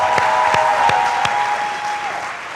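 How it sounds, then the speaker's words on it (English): A crowd at the Cowbellpedia 2023 quiz competition claps steadily for a couple of seconds, a dense wash of applause with a faint sustained tone running underneath. "Can we give him a big round of applause?"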